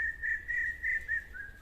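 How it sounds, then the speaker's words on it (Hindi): An Asian koel calls from a distance with a thin, steady whistled note repeated in short pulses over a low background hum. "वो कोयल भी बोल रही है"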